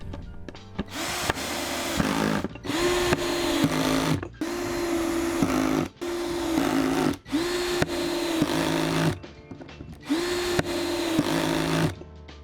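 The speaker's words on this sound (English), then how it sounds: "You can also use a power drill" A power drill whirs in repeated bursts, its motor pitch ramping up and down as screws drive in while a skateboard is assembled, with brief pauses between runs.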